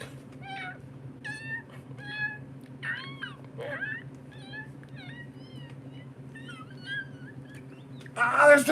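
Several small kittens mew in high, repeated calls over a steady low hum, with a louder scuffle or rustle near the end.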